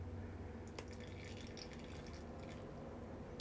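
Canned clam juice pours into a cooking pot with a faint, close liquid trickle and a few small splashes, quiet and uninterrupted by talk.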